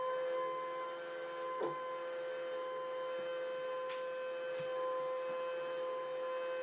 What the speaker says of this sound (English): we'll do a direct cut from the machine